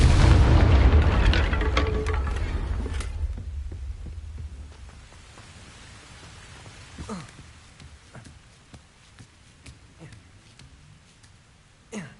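A fiery Confringo spell blast from the video game Hogwarts Legacy erupts as a loud, deep boom, then rumbles away over a few seconds into quiet ambience with scattered soft effects.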